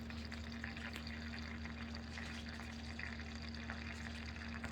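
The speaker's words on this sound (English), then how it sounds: "So it's draining a little tiny bit right now." Water trickles and drains steadily from a greenhouse roof gutter into a bottom-watering system, a faint continuous liquid flow over a low steady hum.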